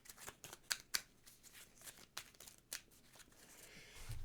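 Cards for a tabletop card game are shuffled back into a deck. Soft riffles and flicks come in several quick bursts close to the microphone, with quiet rustling between them and no talking.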